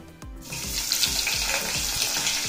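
Sliced onion and green chili pieces sizzling in a pan over a low flame, a steady bright frying hiss that kicks in after a soft thump and holds evenly, with faint repeated stirring scrapes underneath.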